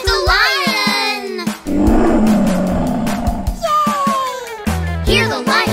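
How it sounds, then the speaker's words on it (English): A lion roar sound effect in a children's nursery rhyme bursts in loud and rough for about two seconds, set between bright sung vocal phrases. "Hear the lion roar!"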